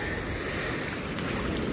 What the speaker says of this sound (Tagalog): Grabe lalaki ng alon dito.